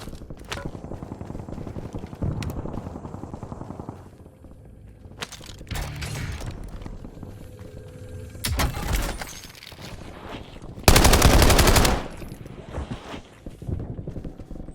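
Gunfire in the Call of Duty Warzone video game: scattered shots and bursts of varying loudness, one long loud burst near the end, mixed with game sound effects and quiet announcer voice lines.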